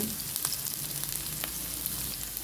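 Unpeeled garlic sautés in a pan with a steady, soft frying sizzle and a few faint scrapes of stirring, heard close and alone, with no voices.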